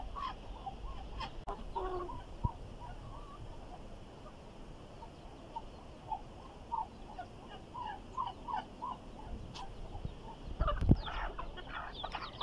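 Chickens, turkeys and chicks in a Spanish farmyard pen, letting out soft scattered clucks and short calls throughout, fairly faint and distant, with a few louder nearby squawks near the end and no talking.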